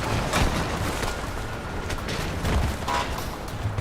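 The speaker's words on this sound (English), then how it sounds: "Well, that's part of the building down." Part of a building crumbles and collapses in the Red Faction game, a dense roar of rumbling debris and crackling impacts with several heavier bursts, loud and continuous with no talk.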